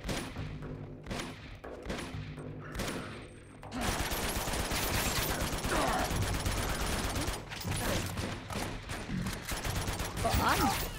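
Gunfire in the video game Uncharted 2: Among Thieves, a few sharp shots early on giving way to sustained rapid bursts and a loud fusillade mixed with game sound, voices talking over it.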